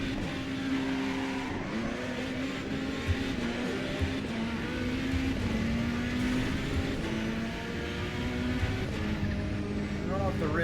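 A race car engine held at full throttle in Assetto Corsa EVO, with traction control on. It gives a steady, loud, droning roar that shifts slowly in pitch, and a voice talks faintly underneath.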